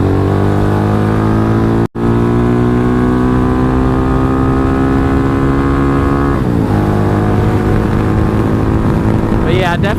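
A Venom X22R motorcycle engine runs with a steady, loud, harmonic drone. It cuts out for an instant near the two-second mark, then shifts pitch with a brief rev before settling back into its even idle.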